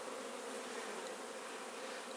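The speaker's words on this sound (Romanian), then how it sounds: "Albinii zboară foarte bine, o veselie." Honeybees flying around the hive in spring make a steady, dense buzzing drone that fills the whole moment evenly, with no speech.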